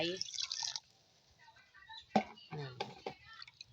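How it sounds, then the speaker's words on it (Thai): Water poured over watermeal in a strainer to rinse it, heard as splashing and dripping in short bursts, close by, with someone speaking quietly between them. "วางแล้วก็เราก็น้ำราดแบบนี้นะคะ"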